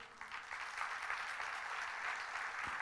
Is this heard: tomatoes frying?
no